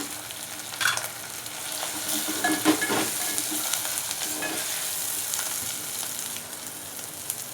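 Dry spices fry and sizzle steadily in hot oil while being stirred for a guar bean curry, a continuous close crackle with occasional scraping of the spoon, no voices.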